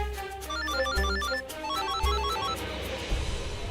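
A telephone rings with a repeating electronic melodic tone in a household drama scene, the pattern sounding twice over steady background music, fairly loud and close, with no voices.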